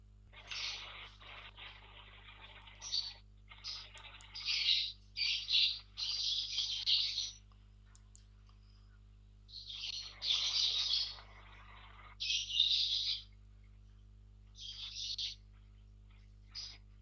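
Birdsong picked up by an open microphone in a Zoom class session comes through as repeated bursts of bright chirping and twittering over a steady low electrical hum, with quiet pauses between the phrases.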